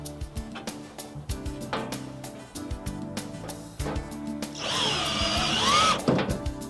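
A nut driver fastens number 10, 3/4 inch hex head screws into a panel: scattered clicks and knocks of handling, then one rising, whirring burst from the driver lasting about a second.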